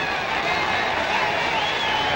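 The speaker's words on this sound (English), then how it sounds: "I hear the crowd applauding." A boxing crowd in an arena applauding near the end of a bout, a dense, steady roar of clapping and cheering with no breaks.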